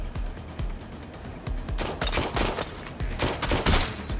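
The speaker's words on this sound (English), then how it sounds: "Shots fired, shots fired." Rapid gunfire rattles nonstop in a firefight in the video game Watch Dogs Legion, a dense fusillade of sharp automatic bursts that grows louder and more intense toward the end, heard alone without voices.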